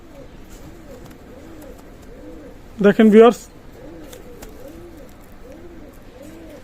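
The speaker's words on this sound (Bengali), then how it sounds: "এক পেয়ার সাহারানপুরি কবুতর দেখাচ্ছি" Soft, repeated cooing of Saharanpuri pigeons murmurs steadily in the background, with a short burst of a man's speech partway through.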